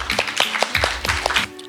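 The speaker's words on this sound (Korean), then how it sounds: "큰 박수 부탁드립니다." Audience applause at a university reading presentation contest, a short burst of scattered claps from a small crowd, fairly close and clear with no talking.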